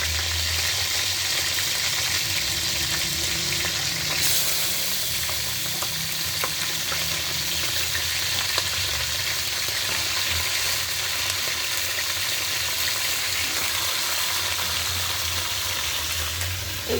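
Chicken pieces frying in a pan for a Bengali-style home-cooked deshi chicken curry, a steady, close, continuous sizzle with faint stirring and bubbling throughout and no talking.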